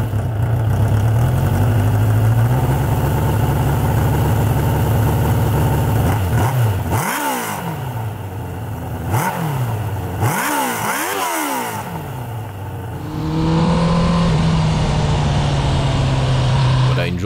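A long-neglected Suzuki GSX 600F motorcycle under renovation idles warm and loud, then gives several sharp throttle blips that rise and fall before settling back to a steady idle.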